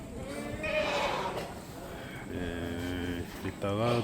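Goats at a livestock auction near a Gyeryongsan goat farm, several bleats rising above a busy crowd, with someone talking over them and the bleats close and loud near the end.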